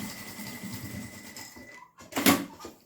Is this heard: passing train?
no